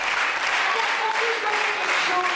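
An audience at the Olympia applauds in a dense, continuous wash of clapping that stays steady and full for the whole stretch.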